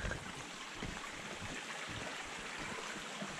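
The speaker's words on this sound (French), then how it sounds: "Donc au bord, la petite rivière." A small river flows beside a trail on a countryside run, its steady rushing and trickling water filling the scene continuously at moderate volume.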